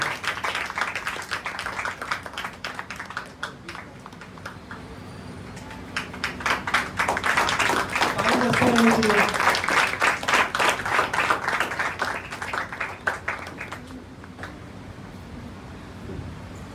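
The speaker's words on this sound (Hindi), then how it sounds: "तो जोरदार ताली बजाइए हमारे ऑलराउंडर के लिए" A school audience at an open day and farewell event gives loud, steady applause for an all-rounder student. The clapping swells in the middle before it eases off.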